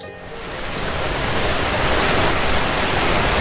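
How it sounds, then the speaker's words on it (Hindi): Heavy rain pours as a storm sound effect in a narrated story, a dense hiss of rain hitting surfaces that swells quickly and stays loud and constant, with no voices over it. "एक रात अचानक तेज आंधी और बारिश आई।"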